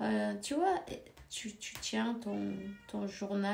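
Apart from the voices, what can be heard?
cat meowing, daughter's cat in heat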